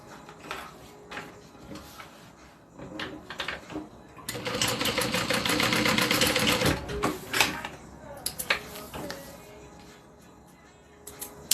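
A sewing machine stitches down a folded-over backpack strap near an adjustable slider, a close, dense mechanical whir running steadily for a few seconds between softer handling clicks and rustles of fabric.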